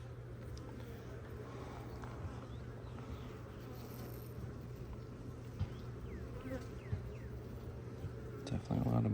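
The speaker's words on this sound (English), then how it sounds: "Definitely a lot of bees on this one" Honey bees crowd a hive frame during a February hive inspection, giving a steady, dense buzzing hum throughout with a few brief knocks and handling sounds near the end.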